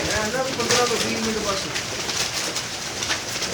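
A pigeon coos in soft, repeated throaty calls among birds kept for sale, while a voice talks over it close by.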